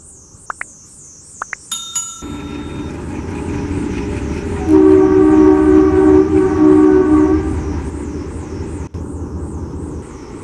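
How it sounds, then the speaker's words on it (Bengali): A train comes along the NJP to Alipurduar line near a forest, first sounding its horn in short blasts, then a swelling rumble of wheels and carriages with a long sustained horn, fading slightly near the end. "ট্রেন একটা আসছে দূরে"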